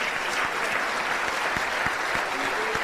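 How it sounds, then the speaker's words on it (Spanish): A church congregation claps steadily in a dense, sustained burst of applause that fills the room at a constant loudness, with no voices standing out. "Ese aplauso es de gratitud a Dios"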